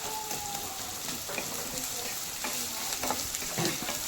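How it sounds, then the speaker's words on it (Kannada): Onions and curry leaves frying slowly in a pan make a quiet, steady sizzle, with occasional soft stirring scrapes and small spattering crackles. "ಈರುಳ್ಳಿ ಎಲ್ಲ ಚೆನ್ನಾಗಿ ಫ್ರೈ ಮಾಡ್ಕೊತೀನಿ."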